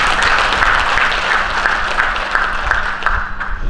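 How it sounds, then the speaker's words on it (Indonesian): Applause for Pak Rahmat at an Indonesian gathering of agricultural extension cadres, steady dense clapping from a crowd throughout, fairly loud with a continuous hum underneath. "Kita berikan aplaus untuk Pak Rahmat"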